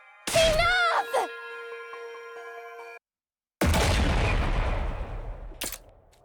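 Explosions and gunfire in the Last Defense Academy video game burst out loud after a gap of silence, a heavy boom with rumbling decay and a sharp crack near the end, preceded by a tonal sung or electronic sound.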